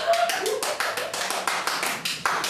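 Brief scattered handclapping from a small theatre audience during a stage play, a few sharp claps repeating unevenly over a couple of seconds.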